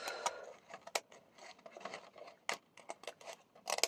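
Scissors cutting paper for a shabby vintage scrapbooking envelope, a close run of quick crisp snips and slices, irregular and sharp, with short gaps between cuts.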